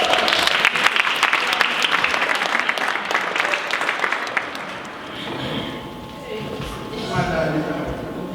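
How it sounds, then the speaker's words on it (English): An audience applauds at a talk on struggle songs and freedom, a dense burst of clapping that fades midway, with a voice speaking over the quieter tail. "Let's give him a round of applause."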